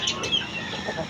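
Chickens in a small breeding area clucking close by, several short sharp calls over about a second, with faint background noise.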